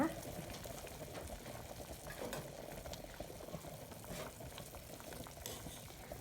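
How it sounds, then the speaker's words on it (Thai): Pork bone and pickled mustard greens soup coming to a boil in a pot, giving a soft, steady bubbling hiss that stays low and continuous throughout. "ส่วนผสมเริ่มเดือดให้หลีไฟอ่อนนะคะ"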